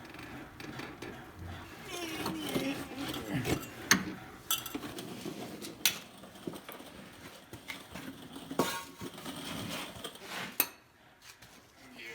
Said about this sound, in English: I have to put my crankcase drain plug back in first time.